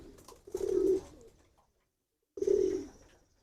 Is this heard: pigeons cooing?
yes